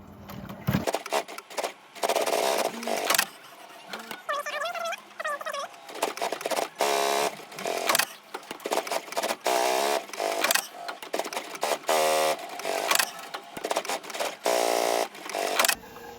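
A sewing machine stitches a layered, laminated cummerbund in bursts of rapid mechanical chatter, stopping and restarting with short pauses and quiet handling between runs.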